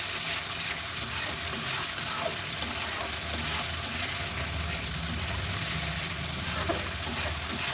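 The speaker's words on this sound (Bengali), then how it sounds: "আর এখানে মশলাটা কষিয়ে নিচ্ছি।" A spice paste for a meat roast is sautéed in oil, giving a steady loud sizzle and frying hiss, with occasional stirring scrapes and pops throughout.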